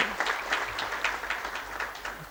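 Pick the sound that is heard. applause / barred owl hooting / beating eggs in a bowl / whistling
applause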